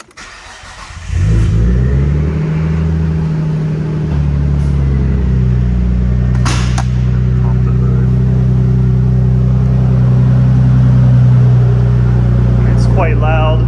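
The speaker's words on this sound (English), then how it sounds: "It's cold start." An Okubo Factory R34 GT-R-look wide-body sedan fitted with a new exhaust and blow-off valve cold starts with a crank and catch, then settles into a loud, steady, close-up idle with a deep rumble and a few faint clicks.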